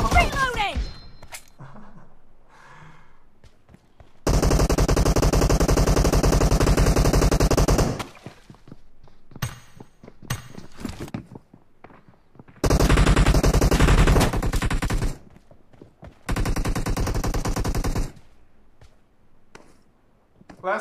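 Bursts of automatic machine gun fire in the PUBG Mobile team deathmatch, several sustained loud volleys of a few seconds each separated by short gaps with scattered single shots, close and dominant, with game voices in between.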